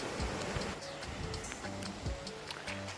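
Water flows steadily at Tat waterfall beside a forest campsite with tents, a continuous rushing wash heard nearby with faint tonal sounds layered over it.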